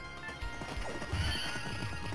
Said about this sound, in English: And there goes the horse.